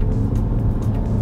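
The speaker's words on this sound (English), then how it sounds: "you can hear a little bit of the diesel noise" A 2015 Peugeot 308 GT diesel accelerating hard through the gears in normal mode, heard as a loud, steady low engine drone from inside the car.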